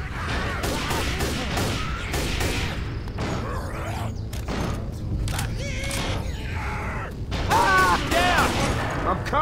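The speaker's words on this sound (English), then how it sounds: "Stop shooting me!" Rapid gunfire in the zombie shooter Left 4 Dead 2 crackles nearly nonstop as dense bursts and booms, with game voices calling out over the shooting.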